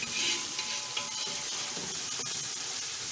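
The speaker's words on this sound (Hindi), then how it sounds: "अदरक लहसुन का पेस्ट इसको हम भूनेंगे ताकि थोड़ा सा इसका कच्चापन दूर हो जाए।" Ginger garlic paste sizzles steadily in hot oil with browned onions, a dense crackling frying sound that stays close and even throughout, with faint stirring scrapes.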